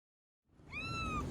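A stray cat placed in a box lets out a single loud, close meow that rises out of silence and holds for a moment.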